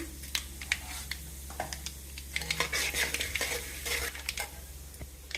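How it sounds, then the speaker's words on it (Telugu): Two kinds of lentils and cumin seeds frying in a pan, a soft continuous sizzle broken by repeated scraping and clinking of a spoon stirring against the metal, close and without talk. "రెండు పప్పులు వేగిన తర్వాత చివరిలో జీరా వేస్తాం"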